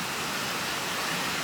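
Heavy rain pours outside a garage, a dense, steady hiss of water with no breaks across the short stretch.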